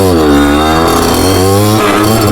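Loud 50cc motorbike engine running right after a push start, buzzing and revving steadily up and down in pitch, close by, with no pauses.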